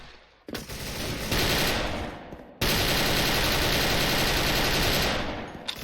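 An engraved FN FAL automatic rifle fires in long, dense bursts in a shooter game. The rapid shots are loud and close, with a brief pause before a sustained burst resumes.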